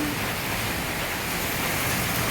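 Steady rain pours down outdoors in a dense, even hiss of broadband noise that holds without a break for the whole short stretch, with no voices.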